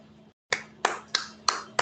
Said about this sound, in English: let's all clap for her, for Palka, for an excellent session we had